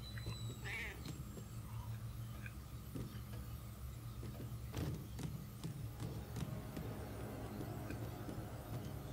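A cat in the video game Murdered: Soul Suspect gives a short high meow near the start, heard over a steady low ambient game background with scattered clicks and faint noises.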